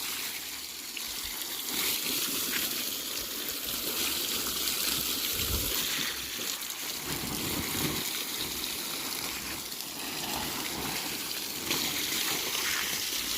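Water runs steadily over stacked bricks, soaking them before bricklaying. A continuous hissing trickle and splash holds at an even level throughout, with no speech.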